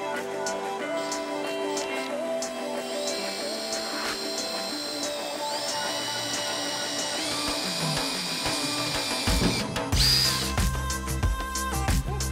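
Steady high-pitched mechanical whine of a power drill running continuously through the body of a Nissan S15 where the spoiler sat, with pitch shifts and a louder burst near the end, overlaid by background music.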